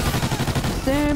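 Rapid automatic gunfire from the Call of Duty Ghosts video game rattles in quick close bursts, with a voice cutting in just as the shooting stops.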